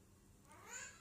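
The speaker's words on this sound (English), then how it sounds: "can adopt or foster this little cute black kitten, my daughter's second rescue kitten" A small black rescue kitten gives a single faint, thin, high meow lasting under a second, heard quietly close by.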